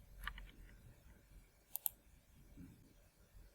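Two quick, crisp computer mouse clicks close together, sharp and isolated over a quiet low background hum.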